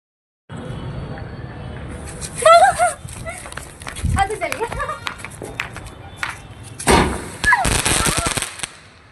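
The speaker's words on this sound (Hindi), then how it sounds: "अब हम चलाने जा रहे हैं स्काई शॉट" Sky shot fireworks set off during Diwali: sharp crackling bursts and pops in clusters, fairly close and loud, mixed with excited voices talking and shouting between the blasts.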